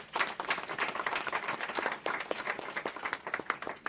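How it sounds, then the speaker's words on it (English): A panel audience at a roundtable on globalising compassion breaks into a burst of applause, dense clapping that swells and dips without pause for about four seconds. "I think a big round of applause for him."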